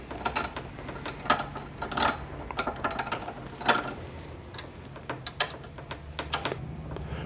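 Bolts tightened by hand on a quilting machine frame during assembly: a series of quick ratcheting clicks in irregular bursts, close and fairly crisp, over a faint steady hum, with no talking.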